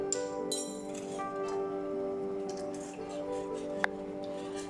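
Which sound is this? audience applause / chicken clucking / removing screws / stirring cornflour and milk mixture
stirring cornflour and milk mixture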